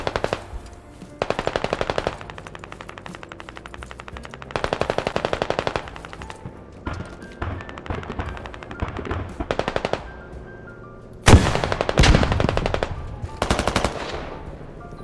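Machine gun fire in the video game Squad comes as repeated loud bursts of rapid shots, some long and sustained, with short pauses between volleys and a sharp close burst near the end.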